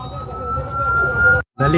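Fire truck sirens passing on a street in the Netherlands, a loud sustained wailing tone close by over traffic rumble, cut off briefly before resuming.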